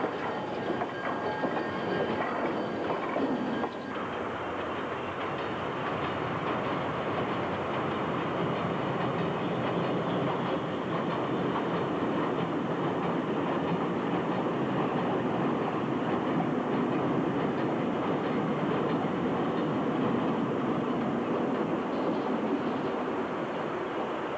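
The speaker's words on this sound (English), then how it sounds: "Cars are spotted, switched, and empties picked up, all in a day's work for the industrial engine crew." An industrial switching engine shoving rail cars through a yard: a continuous rolling rumble with wheels clicking over rail joints, steady and fairly close, with no voices.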